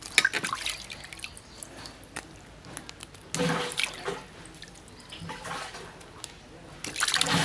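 Cut pieces of korameenu fish are washed by hand in water, with close, uneven splashing and sloshing that comes in louder bursts between quieter dripping and rinsing sounds.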